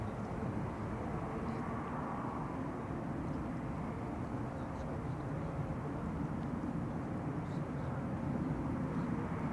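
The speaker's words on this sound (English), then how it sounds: "A350 1000 is on the move." A Cathay Pacific Airbus A350-1000 airliner taxiing at Amsterdam Schiphol Airport produces a steady, broad jet-engine rumble that holds evenly throughout at a moderate distance.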